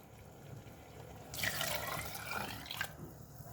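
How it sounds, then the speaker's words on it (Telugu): A bowl of water is poured into a pan holding urad dal, giving a close, splashing pour of roughly a second and a half against quiet kitchen background, with no talking. "ఇప్పుడు ఇందులో 1 బౌల్ మినపప్పు, 1 బౌల్ నిండా నీళ్ళు పోసుకోండి."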